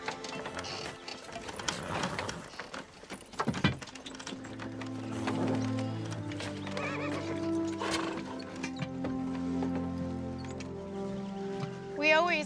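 Horse hitched to a wagon, a whinny and neigh cutting through amid hoof clip-clops, with speech and background music mixed in.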